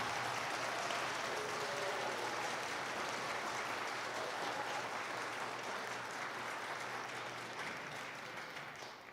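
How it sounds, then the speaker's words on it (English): Sustained applause from an audience at a school athletic recognition night, dense and steady clapping that fills the room and fades slightly toward the end, with no talk over it. "can we please just give him a round of applause"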